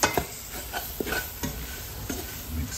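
A spoon stirs a browning roux base in a pot for fish chowder, giving repeated soft scraping strokes at a steady rhythm over a faint, continuous sizzle, close up and quiet.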